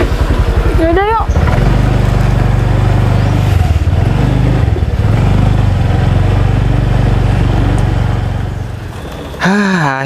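Motorcycle engine, just repaired after a breakdown, running loud and close with a steady idle rumble and a brief rev change near the end; voices are also present.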